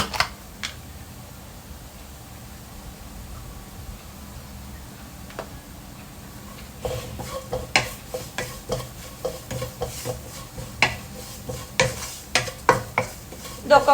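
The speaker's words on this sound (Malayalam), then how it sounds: "ഇതൊക്കെ കൂടി ചേർത്ത് ഇതിപ്പോൾ നന്നായിട്ട് പൊരിച്ചിട്ടുണ്ട്, കാരണം നല്ല ചൂടായിട്ട് കിടക്കുന്നതാണ്." Mussels being fried and stirred in a hot pan with garam masala, homemade masala and fennel powder: a steady low sizzle, with scraping stir strokes and clinks growing louder and busier in the second half.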